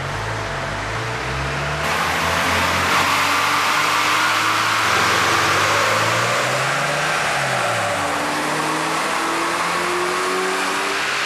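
Tuned car engine revving hard on a dyno after an ECU remap, a loud sustained roar with pitch climbing and dropping through repeated runs, alongside a steady fan-like hiss.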